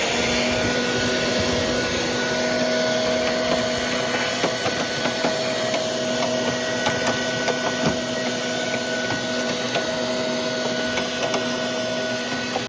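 A vacuum cleaner runs steadily and loudly while it cleans out the cabin air filter housing of a Pontiac Bonneville, a constant close drone with small clicks and rattles of debris and no talk.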